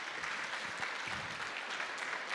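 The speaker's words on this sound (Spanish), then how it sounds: "Aplauden entonces de nuevo." A church congregation claps steadily and fairly loudly, a dense continuous patter of many hands with no voices standing out.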